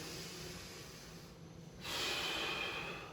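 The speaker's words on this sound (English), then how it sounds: "We kind of cycle some breathing as we do it." Slow, audible breaths nearby: a long exhale followed by a deeper, louder inhale, with no talking.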